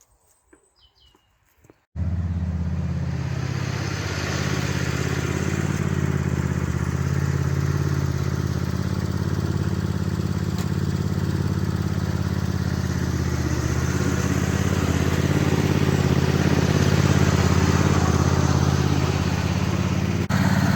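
Small red tractor engine starting and idling to warm up outdoors on a hot day, a loud, steady close-up rumble that begins abruptly after a quiet moment and runs on evenly, with faint birds chirping nearby.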